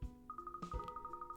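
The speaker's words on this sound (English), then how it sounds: "That's the phone." A telephone rings in the video game Layton's Mystery Journey: a quiet electronic ring with a rapid, evenly pulsing warble over soft background tones, lasting about a second.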